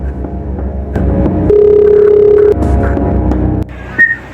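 A telephone on a call gives off a steady electronic tone that holds for about a second amid a low background hum, followed by a short higher beep near the end, with no talking.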